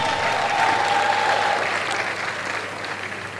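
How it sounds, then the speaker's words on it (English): Mass communication students of the University of Lagos applaud at an academic festschrift, a dense, steady wash of clapping from a large hall audience that carries on for the whole stretch and slowly eases off toward the end. "Please give yourself a round of applause."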